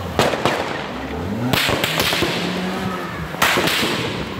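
Gunfire from rifles and handguns during a police shootout with supermarket robbers in May Pen, Clarendon: loud, sharp bangs ring out at a distance, spaced a second or two apart over a noisy background.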